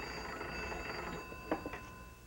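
An old telephone bell rings indoors, a steady bright ringing tone with a few soft knocks and shuffles near the end.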